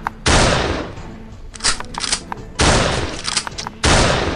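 Toy guns, including a toy AK47, shoot in loud, rapid bursts of electronic gunfire, three long rattling volleys separated by brief pauses with a few scattered shots in between, close to the microphone.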